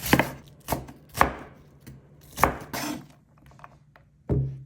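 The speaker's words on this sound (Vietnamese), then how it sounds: "Hành tây thì em cắt thành hạt lựu." A knife dicing onion on a cutting board, several sharp chopping thunks at an uneven pace, close and clear, no voices.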